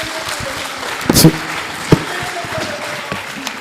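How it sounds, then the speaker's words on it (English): Applause from an audience at the closing of the third Festival of Arts, Culture and Literature in the Northeast, a steady wash of clapping with a few sharper claps, partly under a voice. "I think he deserves a resounding round of applause."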